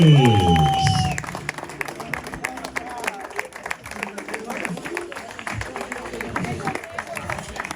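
A crowd claps and cheers for a rider on the second step of a quad competition podium, with a loud opening burst and then a steady spatter of applause and voices outdoors.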